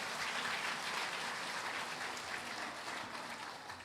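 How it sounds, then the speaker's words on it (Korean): Church congregation applauding one another in encouragement during a Sunday service, a soft, continuous spread of many hands clapping at a distance, steady and fairly faint throughout. "서로 박수로 격려했으면 좋겠습니다"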